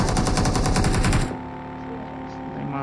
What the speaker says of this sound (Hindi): तभी जो बड़े घर है उधर से गोलियों की आवाज आती है